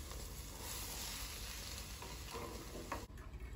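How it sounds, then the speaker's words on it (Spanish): Beans going into chorizo frying in a pan, a soft steady sizzle with light stirring scrapes, quiet and close, and a brief clatter near the end. "Voy a agregar los puros frijoles."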